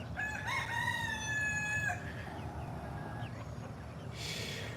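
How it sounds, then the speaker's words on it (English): A rooster crows once in a garden, a long loud cock-a-doodle-doo up close, followed by softer clucking and outdoor background noise. "look at the crazy chicken that don't stay inside"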